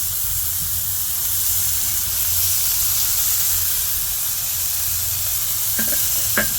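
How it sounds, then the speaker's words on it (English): Hamburger patty frying on a hot cooking surface gives a steady, close sizzle and hiss throughout, with a couple of faint clinks near the end and no talking. "Sizzle that meat."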